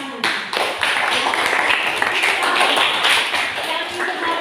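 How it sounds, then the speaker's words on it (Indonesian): A burst of group clapping starts abruptly and continues steadily for several seconds, loud and close, with some voices mixed in. "Oke, tepuk tangan."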